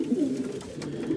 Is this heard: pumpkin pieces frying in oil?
no